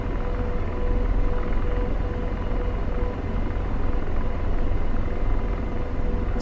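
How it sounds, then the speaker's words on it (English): An Apache AH-64 helicopter in the DCS flight simulator spools up for liftoff, a steady loud rotor and turbine drone with deep low rumble and no voices. "already can feel the helicopter wants to lift off"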